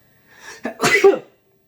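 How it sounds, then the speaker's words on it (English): A single close-up sneeze: a short inhaling build-up followed by a sharp, forceful burst, then quiet. "excuse me, I'm gonna sneeze."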